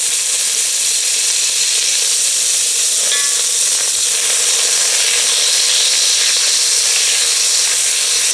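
Butter sizzles and hisses steadily in a soup pot on the stove, a loud, continuous frying crackle with no talking.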